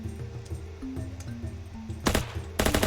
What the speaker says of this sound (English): The government's shooting at us now.